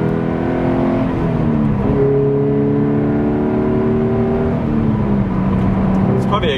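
A Subaru BRZ engine hums loudly inside the cabin as revs drop and rise through a clutch-in throttle-blip shift into fifth, steady drone underneath with voice-like talk over it.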